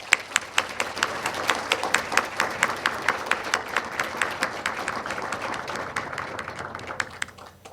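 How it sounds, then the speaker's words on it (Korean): A crowd at a decommissioning ceremony for the South Korean submarine Jang Bogo gives welcoming applause to submarine command sailors. The clapping is close and rhythmic, with sharp individual claps at the start, and fades gradually toward the end. "모두 이 앞에 서 계신 잠수함 사령부 성조 및 장병들께 모두 환영의 박수를 주시면 감사하겠습니다."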